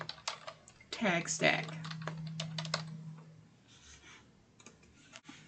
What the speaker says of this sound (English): Let's go ahead and type in Park Lane